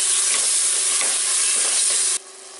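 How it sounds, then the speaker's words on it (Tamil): Tomatoes sauté in a hot pan for a stingray fish curry, giving a steady, close sizzle with faint stirring scrapes, continuous for about two seconds before dropping off sharply. "தக்காளி நல்லா வதங்கி வரட்டும்."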